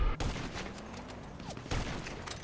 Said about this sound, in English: What are you doing with a fucking assault rifle?